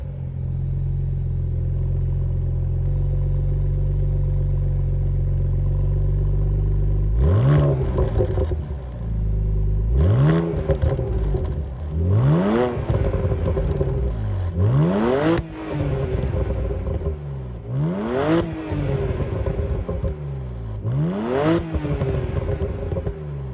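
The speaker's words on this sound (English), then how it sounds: "The sound of this stock exhaust is not annoying to the ears of the passenger, the driver, or the bystander" BMW Z4 with its stock exhaust while driving: a low idle-like drone gives way to repeated rising engine revs through successive gear changes, close and fairly loud with no talk.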